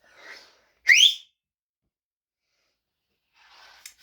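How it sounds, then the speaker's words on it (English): A person reading a children's story demonstrates a loud two-finger whistle with one sharp, rising blast, framed by soft breathing before and after. "She put 2 fingers in her mouth and whistled very, very loudly, like this."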